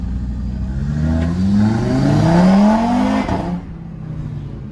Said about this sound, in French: je vais te faire une petite accélération juste ici, d'accord?